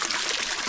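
Cold mountain spring water pours and trickles steadily while someone bathes on the Velliangiri hill trek, a brief close splashing stream.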